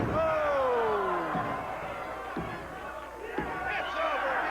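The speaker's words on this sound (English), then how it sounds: "The people are going wild. And they're cheering for Jerry Blackwell." Wrestling arena crowd roaring and cheering loudly and continuously for Jerry Blackwell at an AWA All Star Wrestling match, with a commentator's excited voice calling over the noise.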